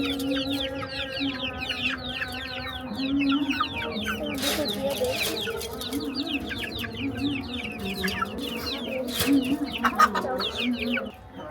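Many chickens cluck and chatter busily together at close range while being fed, with occasional rustling and soft pecking noises beneath.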